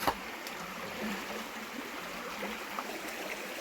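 Faint, steady rush of flowing stream water, an even murmur with no voices.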